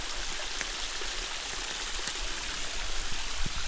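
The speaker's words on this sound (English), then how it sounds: "there is water running here" A forest stream runs steadily during a rainy walk, a close, continuous rushing and trickling wash of water with no voices over it.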